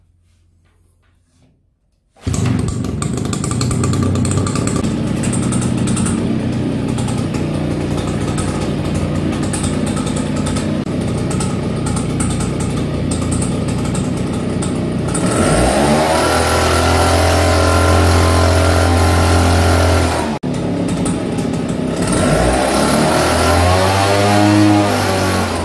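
A Husqvarna Dust 362D28 fertilizer spreader's small engine fires up after a moment of quiet and runs loud and close with a rough buzzing drone, then revs higher, dips briefly and climbs again.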